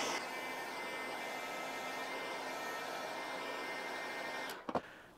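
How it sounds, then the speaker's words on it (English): A heat gun warms the adhesive pad of a motorcycle helmet chin mount: a continuous, even blowing hiss that holds steady for several seconds, then cuts off with a couple of brief clicks and handling knocks. "get a heat gun, warm it up."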